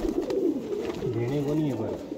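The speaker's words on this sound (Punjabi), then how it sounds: "ਇਹ ਕਬੂਤਰ ਇਹ ਗੋਲਡਨ ਕਬੂਤਰ" A golden pigeon gives a short, rolling coo nearby, rising and falling in pitch over about two seconds amid other soft bird sounds.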